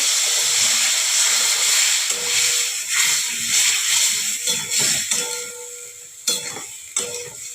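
Water poured into a hot pan of cauliflower curry sets off a loud, steady steaming hiss and sizzle that fades toward the end, broken by a few sharp clinks of a utensil against the pan.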